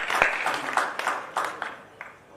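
Audience at a Hindi kavi sammelan poetry gathering applauds as a poet comes to the stage; a short, fairly close bout of clapping in loose uneven bursts rather than a dense roar.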